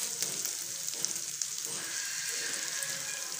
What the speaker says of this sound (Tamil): இதை போட்டு நல்லா ஃப்ரை பண்ணுங்கள்.